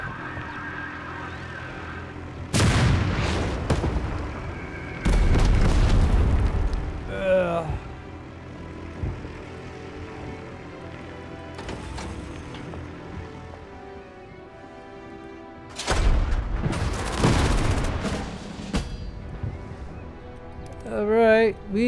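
Bombing explosions in the WWII tank strategy game Total Tank Generals, set in the 1945 Battle of Berlin, several loud broadband bursts of blast and rumble spaced across the span, separated by quieter stretches.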